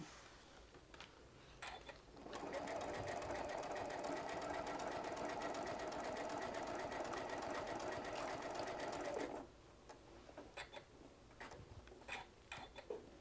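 A sewing machine stitching along small curves in fabric, starting after a few light clicks and running steadily and loudly for about seven seconds before stopping, followed by scattered handling ticks and taps nearby.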